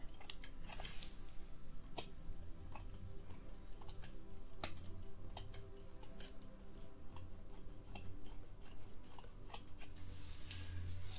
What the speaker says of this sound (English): Now these are textured scissors, and that's just to give you a little bit of texture.